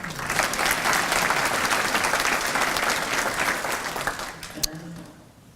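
Audience at a university academic excellence awards ceremony gives a sustained round of applause for an award recipient, loud and steady, then fading out near the end.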